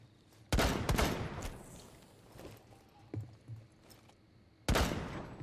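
Gunfire in the tactical shooter game Rainbow Six Siege: two loud, sharp bursts of shots, one early and one near the end, with quieter thuds and movement in between.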